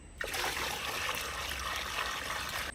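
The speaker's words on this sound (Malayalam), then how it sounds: "ബാക്കി ഭാഗം കൂടി നമുക്ക് മീൻവെള്ളം ഒഴിക്കാം" Fish water poured steadily into a container to make an organic pesticide, a continuous splashing trickle lasting a few seconds, close by.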